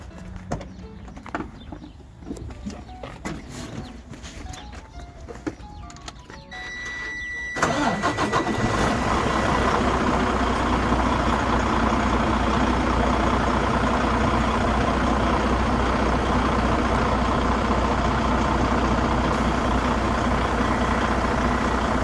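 A truck with air brakes sits quiet apart from a few faint clicks, then its engine cranks and catches loudly, settling into a steady, rumbling idle that continues close by.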